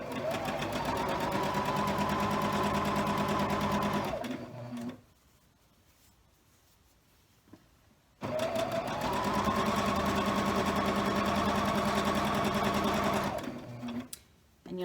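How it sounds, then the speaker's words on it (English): A sewing machine chain pieces a scrap quilt block with a scant quarter-inch seam, running steadily for about four seconds, pausing in near silence, then running again for several seconds before stopping. "we are going to sew a scant 1/4 inch on each side of those diagonal lines"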